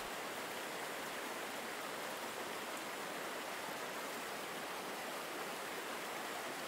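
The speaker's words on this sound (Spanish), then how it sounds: "El sonido continuo de la cascada, el suave susurro de las hojas y el murmullo del arroyo" A waterfall and stream in a Japanese garden give off a steady, even rush of falling water, soft and unbroken from start to finish.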